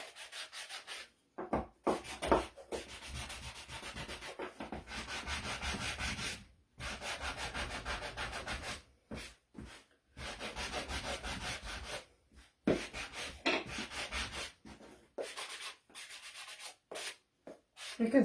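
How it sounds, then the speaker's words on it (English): Hand sanding the edges and top of a tin can craft, repeated close scratchy rubbing strokes in uneven bursts separated by short pauses, no talk. "I'm just going to sand the edges and the top"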